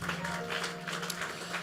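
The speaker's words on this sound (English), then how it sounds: "Clap your hands if you have hands" Church congregation clapping hands together, a steady rhythmic patter of many palms filling the room at moderate volume, with a low hum underneath.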